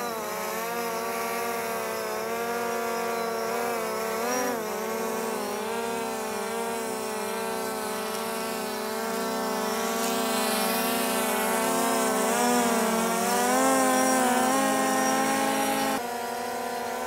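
DJI Phantom 4 Pro drone in flight, a steady high-pitched propeller whine with shifting tones as it maneuvers, loud and close throughout, swelling slightly near the end before cutting down.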